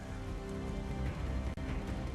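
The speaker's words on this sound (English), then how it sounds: "It's chucking it down with rain." Heavy rain pours down outdoors on an island, a dense, continuous hiss of drops hitting surfaces that stays loud and steady throughout, with no voices.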